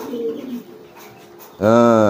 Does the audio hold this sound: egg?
no